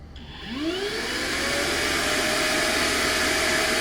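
Prolux Dual Brush Micro Scrubber suction switches on, with a quick rising whine spinning up into a steady loud airy roar that holds to the end.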